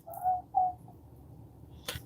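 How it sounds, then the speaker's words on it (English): A pet bird gives two short whistled calls close together indoors, followed by quiet and a brief sharp noise. "Y'all hear my bird over here?"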